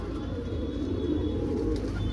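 Punjabi pigeons in a loft give a steady, low murmuring coo that runs continuously throughout, with a faint rustle over a constant background.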